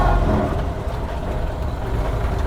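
An original 1929 Ford Model A U.S. mail truck driving along, its engine a steady low rumble with road noise, fairly loud and continuous throughout, no talking.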